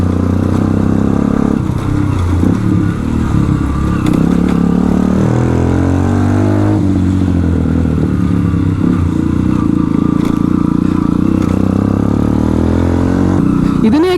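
Loud, continuous engine rumble and exhaust note from a modified Bajaj Platina ADV motorcycle, running close by for the whole stretch with shifting pitch suggesting light revving and clattery mechanical texture.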